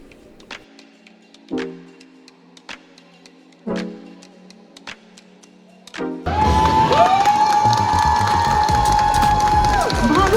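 An audience at a small fan convention applauds and cheers loudly for someone on stage, a dense sustained burst of clapping and shouts that follows several seconds of scattered claps and knocks.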